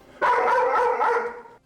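A Chihuahua named Mickey barks in a quick run of sharp, high yaps blending into a continuous yappy outburst lasting over a second, close and loud, with no talking.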